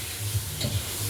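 Mutton cooking in a pot sizzles and bubbles softly, heard briefly alongside low background rumble with a faint knock.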